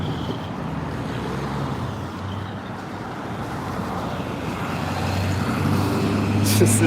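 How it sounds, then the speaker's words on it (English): A loud red truck and a few cars pass on a nearby road, a continuous traffic rumble and tire hiss that swells louder toward the end. "Just this loud red truck and those two white cars right next to each other on the other side."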